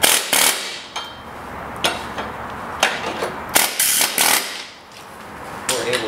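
An air chisel hammers a part that had rusted solid onto a pulley, firing in loud, rapid bursts of metallic chatter and breaking off between blasts.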